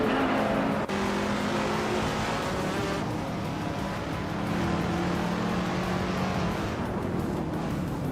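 Racing cars, among them a 1961 MG MGA Sprint, roar loudly and continuously in a race, with engine tones rising and falling as the cars rev and pass close by.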